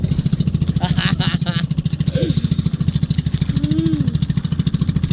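A bangka boat engine chugs loudly and steadily up close on a fishing trip in Bicol, Philippines, with brief voices and a short laugh over it.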